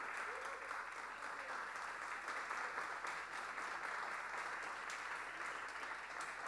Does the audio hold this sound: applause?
yes